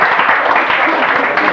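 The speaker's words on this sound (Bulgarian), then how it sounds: "Може да ръкопляскате на мен." Audience applause at a Bulgarian telepathy TV show, a dense, loud burst of many hands clapping that fills the short moment on its own.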